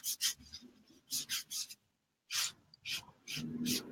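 A tool rubs firmly over card to stick down a sentiment piece for card making, in several close, scratchy strokes with short pauses between them and no talk.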